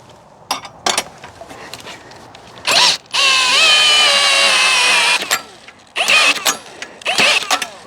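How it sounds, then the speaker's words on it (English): A cordless drill fitted with a hook cranks the jack of an apple cider press. It whines in short bursts and one longer pull whose pitch sags under the load, with pauses and clunks in between. "the drill with the hook doesn't get very far. It kind of lags out on you."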